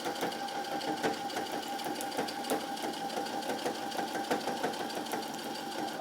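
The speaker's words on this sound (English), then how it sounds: "And just start sewing all the way around." Sewing machine stitching through the layers of a sublimated photo blanket, a steady continuous mechanical whirr with rhythmic needle ticks running close and alone for the whole stretch.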